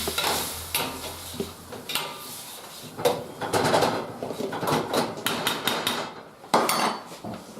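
Mashed potatoes and brown gravy are stirred together in a pan, with repeated scraping and clacking of a utensil against the pan over a soft sizzle, close and fairly busy, no talking.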